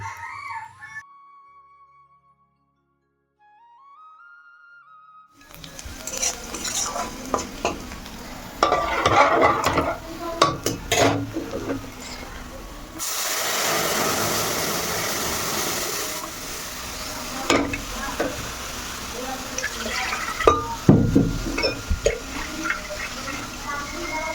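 Garlic and chopped onion fry as a tempering for lentil dal: after a quiet start, a sizzle and stirring scrape begin, then swell into louder, sustained frying for the rest of the stretch.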